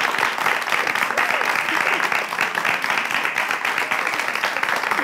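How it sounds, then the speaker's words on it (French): A studio audience at a French television show's final breaks into sustained applause to welcome two guests, dense steady clapping filling the room at full volume throughout. "avec vos applaudissements, veuillez accueillir nos 2 invités"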